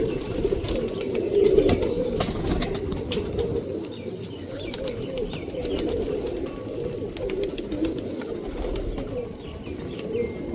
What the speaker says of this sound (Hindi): छत वाला बटेरा कबूतर है